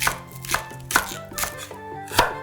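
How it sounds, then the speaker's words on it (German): Spring onions sliced with a knife on a cutting board, five sharp evenly spaced chops close up, each a crisp knock with faint tonal ringing between. "Lauchzwiebel in Scheiben schneiden."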